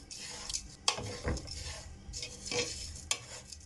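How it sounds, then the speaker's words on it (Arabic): Sugar melting in a pot, stirred continuously with a utensil that scrapes and clinks against the sides over a soft sizzle, close and faint, with no voices. "طبعا نقلب باستمرار كده عشان ما يتحرقش من اجزاء ومن الحروف."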